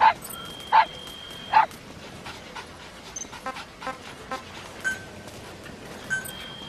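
A puppy in Metal Gear Solid 5 gives three sharp, close yips in quick succession, followed by softer panting and small whimpers.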